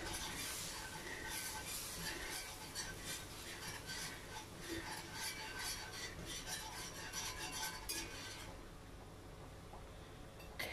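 A whisk stirs cake flour into a pot for macaroni and cheese, giving a steady scraping and clinking that runs continuously at a close, moderate level with no talking.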